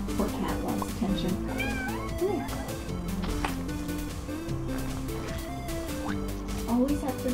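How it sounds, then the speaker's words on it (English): A cat meows repeatedly for attention, short rising cries scattered over several seconds, heard alongside a person talking and faint background music. "This poor cat wants attention."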